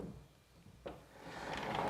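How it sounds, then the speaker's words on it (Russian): An interior door in a villa in Torre Valentina, Spain, shuts with a single sharp knock partway through, followed by a rising rush of room noise. "Здесь еще есть дополнительная дверь, которая отсекает лишний шум."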